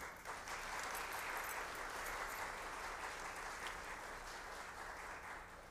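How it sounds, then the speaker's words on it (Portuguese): Applause fills the room at a food-security committee session: a steady, even wash of many hands clapping that holds for several seconds, quiet and somewhat distant, with no speech on top. "Aplausos."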